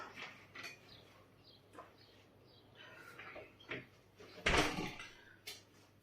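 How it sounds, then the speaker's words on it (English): An indoor door is shut in a home: soft shuffling and light knocks, then one sharp, close thud, followed by a smaller knock. "Let me close that door."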